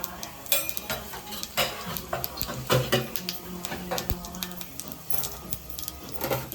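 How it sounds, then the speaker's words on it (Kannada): Cumin seeds crackle and sizzle in hot oil in a pan while cabbage paratha filling is started. A steady frying hiss runs under repeated spoon clatters and stirring knocks, close and fairly quiet. "ಇವಾಗ ಎಣ್ಣೆ ಕಾದಿದೆ, ಇದಕ್ಕೆ ಸ್ವಲ್ಪ ಜೀರಿಗೆ ಹಾಕ್ಕೊಳ್ತಿದ್ದೀನಿ ನಾನು."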